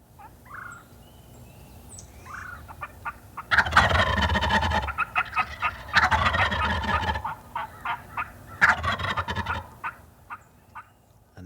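Wild turkey gobblers gobble in three loud, rapid bursts a couple of seconds apart, close to the listener, with fainter outdoor ambience and distant birds in the pauses.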